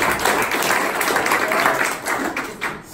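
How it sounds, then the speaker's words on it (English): A crowd at a political rally claps steadily and densely throughout, a continuous wash of applause filling the room with no pauses. "can you give yourselves a round of applause?"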